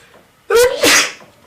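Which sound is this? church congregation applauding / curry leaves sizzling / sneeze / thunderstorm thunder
sneeze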